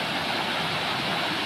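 Water at Geelong's waterfall near Melbourne, a flow released along one side rather than a high drop, gives a steady, dense rushing roar, close and loud, without a break.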